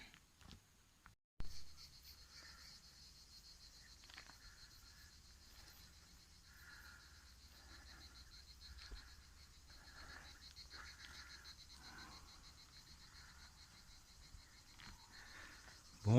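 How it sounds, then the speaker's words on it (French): Several cicadas sing together in summer heat during a sunny walk, a steady high shrill drone with pulsing texture that holds throughout at moderate distance. "Bon, il y a plusieurs cigales, hein."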